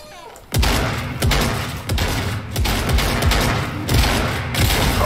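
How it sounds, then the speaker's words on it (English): A gray shotgun fires in Fortnite in a quick, punchy volley of about eight loud blasts spaced roughly half a second apart, each with a booming low thump. "And we died to a gray shotgun"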